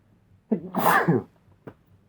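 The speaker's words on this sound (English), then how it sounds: "I got a sneeze" A single loud sneeze with a short sharp intake of breath before it, then a faint click in an otherwise quiet room.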